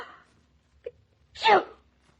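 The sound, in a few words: sneeze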